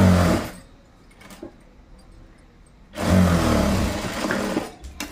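A sewing machine runs two loud close bursts of stitching along an umbrella dress seam from the top side, whirring steadily, with a quiet pause between them.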